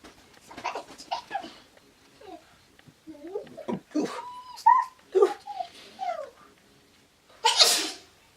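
A sharp sneeze bursts out near the end, after a stretch of soft whimpering and small dog-like yips.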